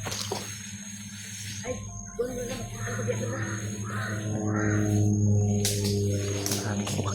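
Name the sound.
crows cawing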